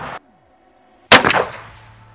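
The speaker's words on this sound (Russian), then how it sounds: "Все, готовы к выстрелу." An Armsan Phenoma smoothbore shotgun fitted with a choke fires one loud, close shot with a sharp blast that rolls off into a short echo, after a brief click and silence.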